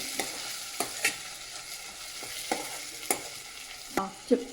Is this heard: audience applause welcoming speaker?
no